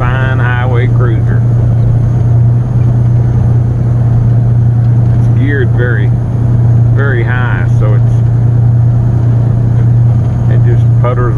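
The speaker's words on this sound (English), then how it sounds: "That engine just rumbles along, but the truck is flying." A Peterbilt rock hauling truck cruises down the interstate, its engine holding a steady deep rumble and drone throughout while someone talks over it.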